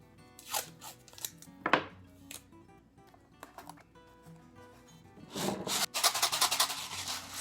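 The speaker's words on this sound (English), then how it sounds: "And then you're going to tape up the top." Tape pulled and pressed onto the top of a cardboard toothpaste box, with sharp ripping strips, rubbing and crinkling cardboard, close and intermittent, growing busier toward the end.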